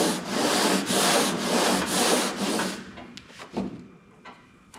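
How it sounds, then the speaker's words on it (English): A big flat sander works over a car body panel on a father-and-son GTX project, giving about three seconds of loud, steady, broadband scraping in rhythmic strokes before it stops, leaving a few faint knocks and handling sounds. "Now come back with a big flat sander."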